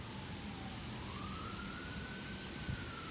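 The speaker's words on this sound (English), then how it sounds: "Those sirens all along." Emergency vehicle sirens wail outside, a single faint, distant tone rising slowly and holding steady over a constant low background hum, with no one speaking.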